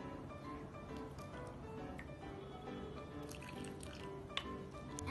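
Two spoonfuls of warm water trickle into a jar already holding potassium iodide, yeast, oxygen water and food colouring. The soft liquid drips and pours are faint and close, with no talk over them.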